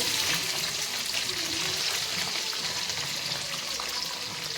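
Onions sizzling as they fry in hot oil for puri upma, a steady close crackle and hiss with faint stirring.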